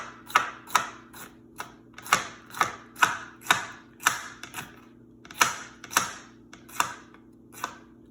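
A knife cuts jalapenos on a cutting board, giving a run of sharp, crisp chopping taps, close and fairly quiet, with a roughly regular rhythm and brief pauses.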